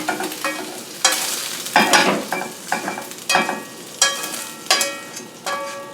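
Onions and garlic fry in a pan with a steady sizzle, broken by repeated scraping stirs from a utensil at a loose, uneven rhythm, close and clear, with no talking.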